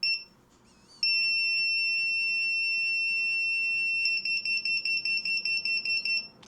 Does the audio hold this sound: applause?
no